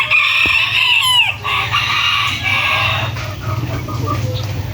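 Gamefowl stag roosters crow loudly and cluck repeatedly at close range, with several overlapping calls and steady farmyard background noise throughout.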